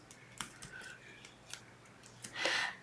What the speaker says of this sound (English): I'm just cutting the foam tape into pieces.